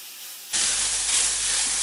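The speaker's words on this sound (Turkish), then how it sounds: "Yemeğimiz için yarım kilo dana kıymasını geniş bir tavaya alalım. Suyunu çekene kadar kavuracağım." Half a kilo of minced beef hits a wide pan and erupts into a loud, steady sizzling hiss that holds without a break after a quiet start.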